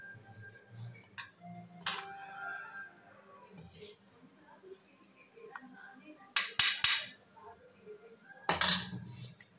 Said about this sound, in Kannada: ಸೊ ಇದನ್ನ ಕ್ಲೀನಾಗಿ ಮಿಕ್ಸ್ ಮಾಡ್ಕೊಬೇಕು